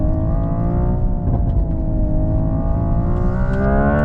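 A Hyundai IONIQ 6 N electric car accelerates hard on a twisty road, its synthetic engine note climbing steadily in pitch with layered harmonic tones and a continuous loud whine, heard from inside the cabin with no talking.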